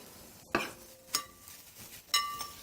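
Garlic sautéing in a pan with onions, heard as a quiet background sizzle broken by three distinct clinks and scrapes of a utensil against the pan.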